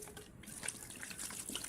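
Water runs from a household tap into a sink, a faint, soft, continuous splashing and trickling for a couple of seconds with no voices.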